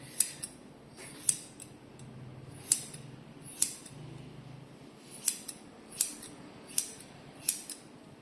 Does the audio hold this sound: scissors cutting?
yes